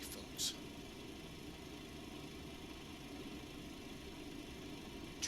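Citation X jet engines spooling up and warming up in the X-Plane 12 flight simulator, a faint, steady, low engine drone held evenly throughout with no change in pitch or level.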